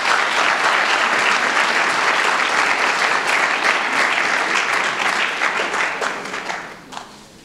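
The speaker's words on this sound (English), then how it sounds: "So a huge round of applause, please." Sustained audience applause fills a plenary hall at a women-in-science event, dense, steady clapping from a large crowd that holds loud for about six seconds, then thins and fades out near the end.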